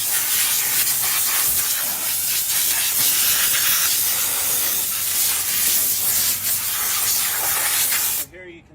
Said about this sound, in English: So you would want to blow it off with the air hose.